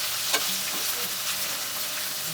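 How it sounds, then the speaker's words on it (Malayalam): Paneer gravy ingredients sauté lightly in hot oil, a steady close sizzle and fry with a few stirring scrapes, no voices. "ജസ്റ്റ് ഒന്ന് ലൈറ്റായിട്ടൊന്ന് സോട്ട് ചെയ്ത് അപ്പം തന്നെ നമുക്ക് മാറ്റാം."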